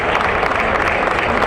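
Applause from a crowd at a Section 7 Class B girls' basketball semifinal, Saranac against AVCS, steady dense clapping that fills the gym throughout.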